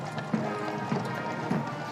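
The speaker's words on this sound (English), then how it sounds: "behind you can hear the wonderful sound of the mounted band of the Household Cavalry" Hooves of the Household Cavalry mounted band's horses at Trooping the Colour clop in a slow, regular rhythm of three soft strikes, set against a steady outdoor crowd and ambient hum.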